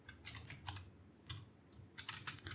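Bursts of quick key clicks from typing on a computer keyboard, a few short clusters with pauses between, close and fairly quiet.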